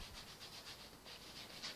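Hands rubbed together in a brisk, close, soft swishing rhythm during a breathing and body exercise, repeated strokes with no voices.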